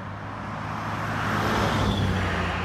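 Road traffic rushes past on a snowy day, a continuous roar of passing cars and heavier vehicles swelling as one comes closer, with no talk.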